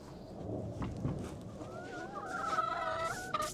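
Chickens cluck and chatter softly nearby, a few rising calls overlapping in a quiet setting.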